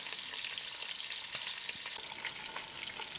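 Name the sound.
quails browning and sizzling in a pot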